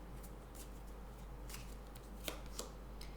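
Tarot cards being drawn from a deck, a few soft papery slides and flicks, quiet and close, with no voices.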